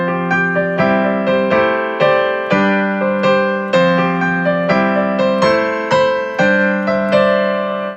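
Piano music built on dense cluster chords, struck in a steady rhythm of sustained, resonant chord hits that ring and overlap, played alone at close range with no voices.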